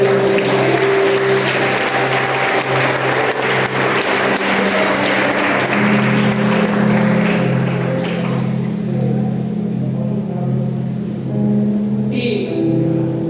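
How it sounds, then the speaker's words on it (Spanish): A congregation at a church service claps in a loud, sustained wash of applause that thins out after several seconds, while steady keyboard or organ tones hold underneath and carry on alone. "Denle un fuerte aplauso al Señor"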